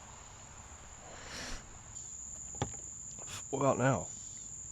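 Crickets and other insects chirp steadily on a golf course, a thin continuous high buzz that runs throughout, while someone talks briefly near the end.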